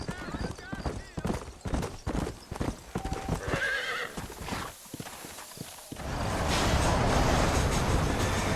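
In the video game Red Dead Redemption, horse hooves clip-clop in a rhythmic stream and a horse neighs, with a rumbling train-like noise building toward the end.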